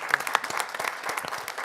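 Applause from a modest audience at a board of trustees meeting, a short burst of scattered individual hand claps, fairly close.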